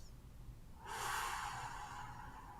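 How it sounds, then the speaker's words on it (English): Slow, calming breathing exercise with an elongated exhale, heard as one close, long airy breath that rises suddenly and trails off gently, with no talking over it. "breathing in for 3 seconds, holding for 1 second, and then breathing out for 6 seconds"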